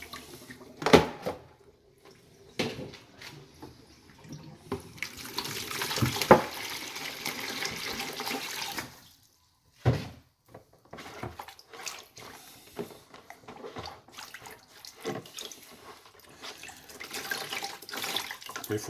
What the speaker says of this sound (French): On va changer l'eau.